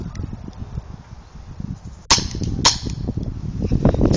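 Airsoft guns fire in a skirmish, a sharp close shot around midway and another soon after, over a constant busy clatter of distant shots and rustling.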